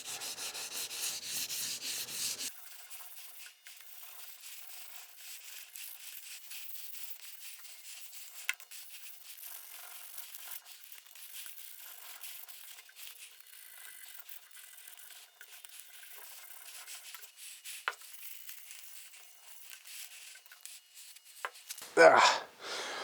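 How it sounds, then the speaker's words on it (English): Sanding a custom wood-grain style steering wheel for a 1956 Chrysler 300 with 600 grit sandpaper produces a steady, faint rubbing hiss that continues for a long stretch, with a louder burst near the start and a scrape near the end. "Got the steering wheel sanded out with some 600, finalized."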